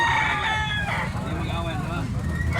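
A three-year-old yellow-legged gamecock rooster crows loudly and close, one drawn-out call with a strained, wavering tail, over a dense background of other fowl.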